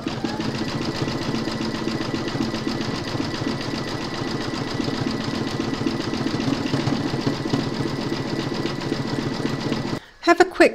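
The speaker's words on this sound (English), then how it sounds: "You're now going to pop your hoop into your machine and stitch colour number 13, and that's going to zigzag all the way around" An embroidery machine zigzag stitches around the fixtures on a hooped in-the-hoop medical pouch, giving a fast, even mechanical whirr that runs steadily for about ten seconds before stopping abruptly, followed by a few short clicks.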